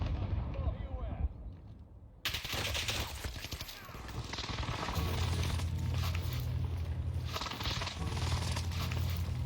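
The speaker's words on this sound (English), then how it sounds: "Allied precision airstrike incoming." Airstrike explosions in the Warzone video game arrive as a sudden heavy boom, followed by a dense, continuous rumble of blasts and gunfire. Faint voices sit underneath.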